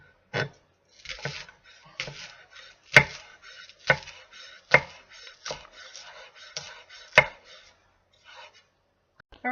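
Kitchen knife chopping and slicing on a cutting board, about a dozen distinct close taps in a steady, slightly uneven rhythm with brief pauses between strokes.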